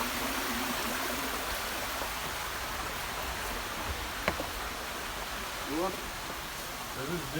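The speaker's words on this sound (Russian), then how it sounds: "Тут вот родник с горы прям течет чистая вода." Clear spring water runs straight down from a mountain in Kyrgyzstan, a steady close rushing and gurgling flow that continues throughout, with a few brief voices near the end.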